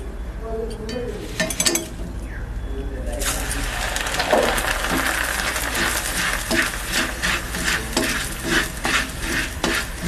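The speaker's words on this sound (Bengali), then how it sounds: "এভাবে আমি আস্তে আস্তে করে সব চিড়েগুলো ভেজে নেব।" Flattened rice being fried and stirred in oil in a tilted wok for crispy chire bhaja with peanuts, giving a steady close sizzle with repeated scraping stirs throughout.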